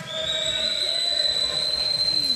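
At a men's volleyball match between Hungary and Latvia, a referee's whistle rings out as a long, steady shrill tone over a busy arena din and crowd noise.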